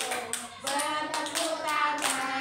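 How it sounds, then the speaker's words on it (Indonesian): A group claps hands during a children's lesson, several quick bursts of close, bright claps with short pauses between them. "bertepuk tangan"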